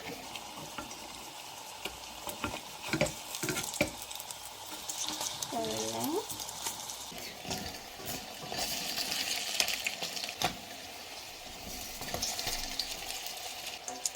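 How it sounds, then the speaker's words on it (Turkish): Anchovy corn bread fries over medium heat in a pan, giving a soft, steady sizzle broken by scattered clicks and taps of utensils. A voice is briefly heard partway through. "Orta ateşte kızartın."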